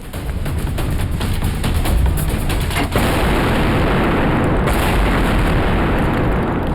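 Bomb blast explosion in a TV crime drama, heard as a loud, sustained roaring burst with crackling rumble that fills the whole stretch, followed by a second surge partway through.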